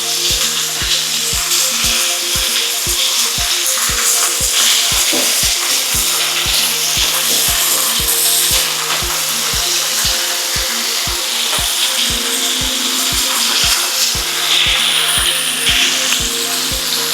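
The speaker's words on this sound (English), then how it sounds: "So we're cooking them about 2 minutes on each side. We're just trying to brown them." Beef browning in a pan sizzles loudly and steadily, close up, with a regular rhythmic ticking running underneath throughout, and no voices.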